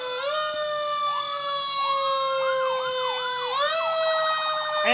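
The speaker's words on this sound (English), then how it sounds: "Vernon fire engine." A fire engine siren wails loudly at a winter carnival parade, rising and falling in repeated sweeping cycles close by, steady and dominant with no talking.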